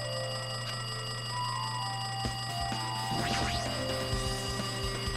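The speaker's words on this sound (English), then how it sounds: "It looks like that phone is ringing." A telephone rings in a video game with bright, repeated bell-like trills over steady electronic hum, joined by a few scattered clicks and knocks, moderately loud with no speech.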